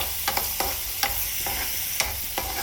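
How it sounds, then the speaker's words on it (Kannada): Orange peel frying in oil in a pan for an orange peel gojju, with a steady low sizzle under a run of sharp stirring scrapes and taps, near and fairly quiet, no talking. "ಸಿಪ್ಪೆನ ಅದನ್ನು ಸೇರಿಸ್ಕೊತಾ ಇದ್ದೀನಿ. ಇದನ್ನು ಚೆನ್ನಾಗಿ ಫ್ರೈ ಮಾಡಬೇಕು."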